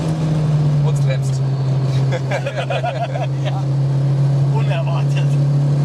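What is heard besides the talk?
Mazda MX-5 NC with 2.5-litre engine accelerating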